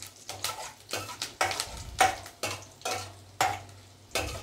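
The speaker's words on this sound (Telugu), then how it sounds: "ఇవి కాస్త చిట్టపట మన కలుపుకోవాలి." Mustard seeds, cumin, chana dal and dried chillies crackle and sizzle in hot oil while a spoon stirs them in regular scraping strokes, close and fairly loud, with no voice.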